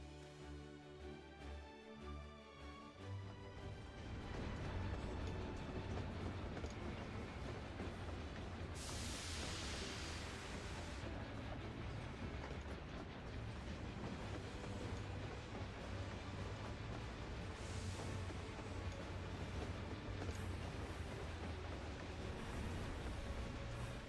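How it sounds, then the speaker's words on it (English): A train rolls past in the video game Final Fantasy XIV, a dense, steady rumble with rattling and clatter that swells in after a quiet music opening and holds loud and continuous to the end, with no talk. "I hear that noise and I think the train's passing by."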